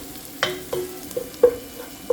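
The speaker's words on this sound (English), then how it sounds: "So we'll cook the garlic down" Garlic cooks in a pan for a Kenyan pilau, a soft sizzle under several distinct scraping and clinking strokes of a utensil stirring, close and moderately loud, with no talking.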